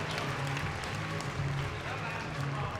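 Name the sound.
audience applause at a dog show display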